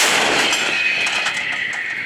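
Heavy artillery gun fire near Pervomaiske, Donetsk, fills the whole stretch, a dense, sustained roar with faint crackles, like the tail of a big cannon shot.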